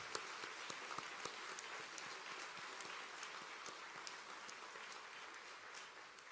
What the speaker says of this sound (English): We owe Ms. Gwen a big round of applause tonight.